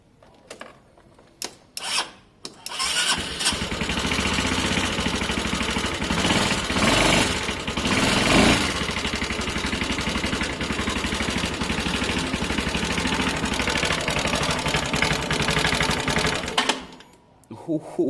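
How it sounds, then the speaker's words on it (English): A Honda CB250 motorcycle with 68,000 miles, built as a bobber with fresh carb work, cranks over a few times and catches, then settles into a steady, loud, close idle that holds until it cuts off near the end. "Just have a listen closely to the engine."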